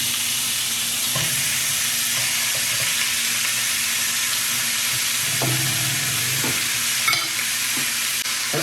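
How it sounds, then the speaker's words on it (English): Rib roast steaks salted and sizzling in a preheated frying pan, a loud continuous frying hiss with occasional crackles and pops, close and steady throughout, without any talking. "I'm going to throw my steaks on."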